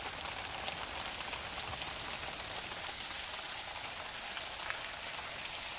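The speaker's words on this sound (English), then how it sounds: "We've got rain, but as you can see, it's not torrential." Moderate rain falls steadily outdoors in Tallahassee ahead of Tropical Storm Nicole, an even, close hiss of drops that stays constant throughout with no voices.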